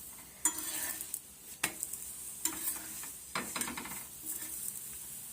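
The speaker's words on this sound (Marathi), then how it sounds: "आता दुसऱ्या साईडनं भाजत येत आहे आपण आता ह्यावर तेल लावून घेऊ" A wheat flour masala paratha roasting on a pan with oil, with a faint steady sizzle and several sharp clicks and scrapes of a spatula against the pan, and no talking.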